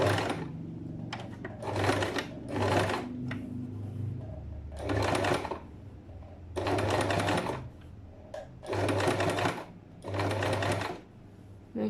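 A sewing machine top stitches the side pocket of a pair of trousers, running in several loud, steady bursts of a second or two each, separated by short pauses and soft handling sounds.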